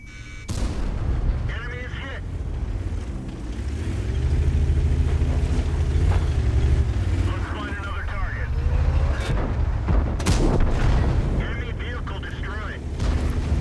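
Cannon fire from tanks including a T32 heavy and an IS-6 in the World of Tanks game: deep booming shots and rumbling engine noise beneath continuous commentary, with sharp blasts around the middle of the stretch.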